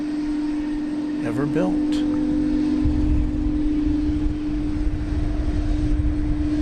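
A UPS MD-11 at DFW Airport at night, its jet engines a steady low roar with a constant tonal whine, heard under a man's brief speech.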